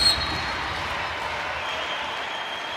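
Crowd at a Wisconsin women's professional volleyball match, League One Volleyball, LOVB Madison against Salt Lake, a broad, steady wash of cheering and applause that holds at even loudness throughout, with a brief swell at the start.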